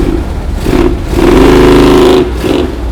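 A 1970 Dodge Challenger V8 revving up close and loud, a rough idle swelling into a sustained rising rev before settling back.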